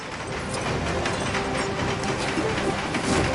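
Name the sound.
train in the video game Lego Marvel Superheroes 2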